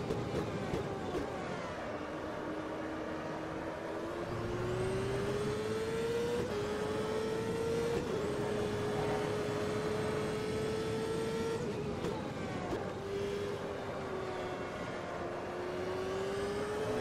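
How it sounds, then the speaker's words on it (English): A CART race car engine in the racing video game Automobilista at Road America drones steadily while a thin, rising turbo whistle climbs and falls with the revs, continuous and fairly loud throughout. "Hear that turbo whistling there."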